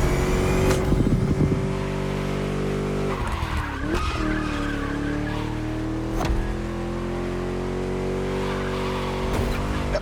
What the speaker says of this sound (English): Just listen to that V8 like a chonky, down-tuned guitar riff.